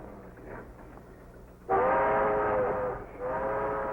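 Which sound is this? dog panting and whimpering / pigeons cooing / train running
train running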